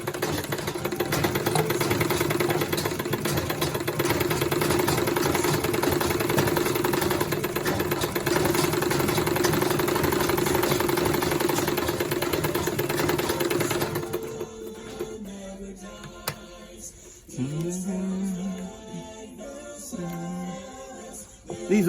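Sewing machine stitching a single welt pocket on men's trousers, a steady continuous motor whir for about fourteen seconds, then short stop-start bursts of stitching with pauses between.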